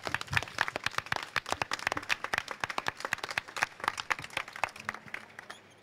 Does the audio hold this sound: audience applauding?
yes